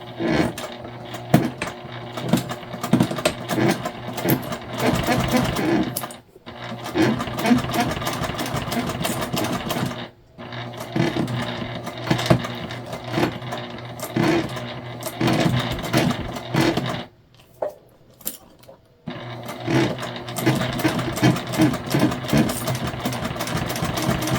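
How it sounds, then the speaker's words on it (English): A sewing machine stitching jelly vinyl runs in long continuous bursts of rapid mechanical stitching, pausing briefly between runs, close and fairly loud. "We're just going to sew the other side, and then we'll add our binding."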